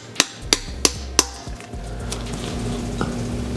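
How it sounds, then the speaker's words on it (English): A hammer strikes a punch four times in quick, even succession, driving an oil feed flush into the top of an RB26 engine block, sharp metallic clinks followed by a quieter workshop hum. "we're just going to hammer that down until it's flush with the top of the block. I'm just using a punch and a hammer."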